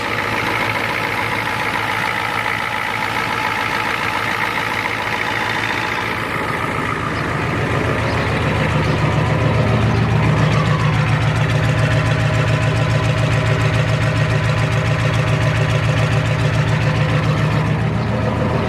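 A four-wheel drive farm vehicle's engine idles steadily and close, with no smoke and good compression, a loud continuous rumble whose low throb deepens slightly partway through.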